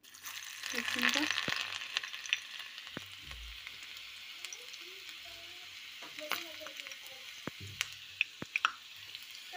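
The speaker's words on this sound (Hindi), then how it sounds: "और अब मैं इसमें बघार दूंगी एक मिनट।" Garlic sizzles and fries in hot oil for a baghar tempering meant for urad dal, a steady close crackle with occasional stirring clinks and small pops, faint in a quiet kitchen.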